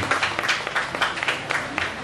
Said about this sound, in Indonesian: Boleh tepuk tangan, jangan malu-malu.